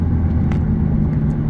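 A 2012 McLaren MP4-12C on a test drive, heard as a loud, steady low engine rumble with road noise from inside the car, continuous and without talk.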